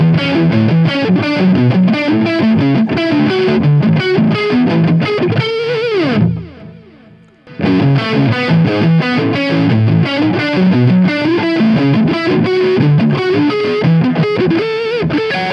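Electric guitar fitted with Seymour Duncan Triple Shot pickups, played with heavy distortion in dense riffing chords, with a short pause and sliding drop near the middle before the riff resumes.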